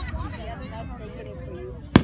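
Outdoor fireworks with one sharp, loud bang near the end, preceded by low rumbling background noise and faint whistling tones as the shell climbs.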